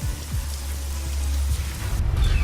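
Rain falls steadily in the Spiral Knights video game, a soft continuous patter that swells slightly louder toward the end, with no voices over it.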